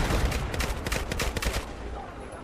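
A tank fires in a video game, a rapid burst of gunfire that is loud and close, with dense repeated shots that fade after about a second and a half.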